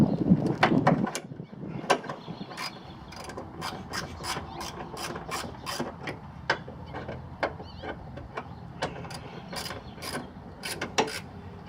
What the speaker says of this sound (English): Here I am removing a bolt.